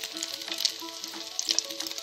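Flour- and egg-coated schnitzels fry in a heated pan, giving a steady close sizzle with small crackling pops throughout and no voices.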